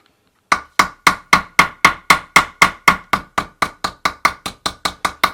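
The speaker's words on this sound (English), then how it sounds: "I'm going to come over to my blocks here, and I'm going to use a hammer, and you flip it over." A hammer strikes a metal leather-bag closure laid on a block, about twenty sharp, evenly spaced blows in a steady rhythm, close and loud with no talk.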